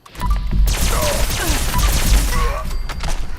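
Sustained Alien Blaster gunfire in Fallout 76, a loud continuous barrage of rapid energy shots with crackling impacts running for several seconds.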